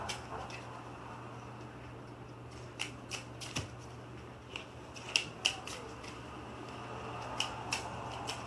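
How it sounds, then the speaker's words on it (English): A deck of game cards shuffled by hand during a tabletop playthrough, giving a scatter of short, crisp riffles and snaps at a moderate distance over a steady low hum. "I will then give this just another, hopefully better shuffle than last time"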